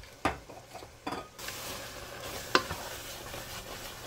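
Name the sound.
stirring red wine into meat sauce, scraping pot bottom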